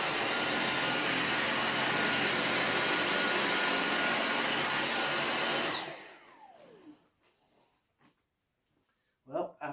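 A Dyson cordless vacuum cleaner runs with a loud, steady high-pitched whine for several seconds, then powers down with a falling tone and leaves near silence broken by faint handling clicks.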